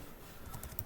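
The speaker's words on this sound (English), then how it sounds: "I'm gonna type it from scratch actually" A few faint computer keyboard keystrokes tap under steady background hiss, as someone types a file-handling program during a programming lesson.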